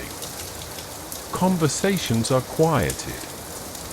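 Steady rain falls throughout, a soft continuous patter under a calm, quiet voice speaking in the middle.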